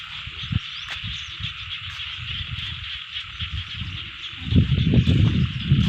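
Frogs croak in a rice field, a dense chorus of many overlapping calls over a steady insect hum, heard from a short distance, with a louder burst of rustling and croaking near the end.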